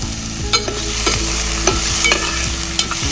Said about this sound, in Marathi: सर्व असं गुलाबी होईपर्यंत असं परतून घ्यायचं आहे.